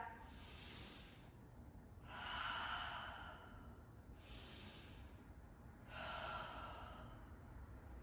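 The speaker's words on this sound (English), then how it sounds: "Last few breaths" Slow, deep breaths through the nose during a downward facing dog yoga pose, four long inhale and exhale swells in a steady, unhurried rhythm, close and soft over quiet room hiss.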